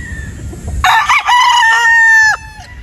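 A gamefowl broodstag rooster gives one loud, close crow lasting over a second, after a few soft clucks and faint background noise.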